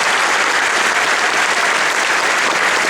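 Dense, steady applause from a large audience at a religious lecture fills the space, loud and sustained with no break.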